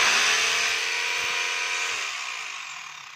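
A DeWalt D25032 rotary hammer motor whines steadily at close range, running while its bit does not rotate, with the pitch slowly falling and fading toward the end.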